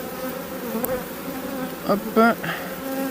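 Honey bees buzz around an open beehive, a close, continuous insect drone with a few louder passes near the listener, while a voice speaks briefly.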